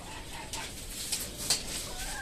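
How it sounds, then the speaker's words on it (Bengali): Desi chicken chicks cluck and chirp softly in a farm setting, a steady low murmur of small calls with a few brighter peeps standing out near the middle and end. "এখানকার মুরগির বাচ্চাগুলো যদি আপনাদের একটু দেখাই"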